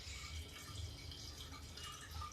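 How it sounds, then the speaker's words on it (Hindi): Hot water poured into a pressure cooker on the stove for lauki dal, a steady close splashing stream running throughout without talk. "ये कुकर मैंने चढ़ा दिया है और इसमें हम डाल देते हैं देखिए गर्म पानी।"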